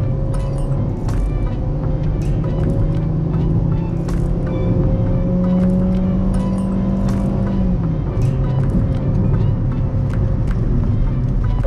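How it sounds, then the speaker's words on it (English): Interior engine drone and road rumble of a 2020 Hyundai Reina with a 4-speed automatic, steady and continuous, with a low tone that rises and falls gently and a few small rattles and clicks. "Driving the Reina, it's surprisingly good."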